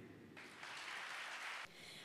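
An audience claps at a prize distribution event in Cochin, a faint burst of applause that swells for about a second and a half before fading back into quiet room tone.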